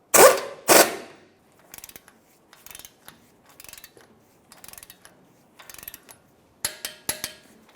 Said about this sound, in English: Now let's bottom this out and then torque it to 63 foot-pounds.